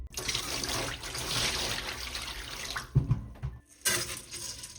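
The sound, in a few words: pouring warm water over basmati rice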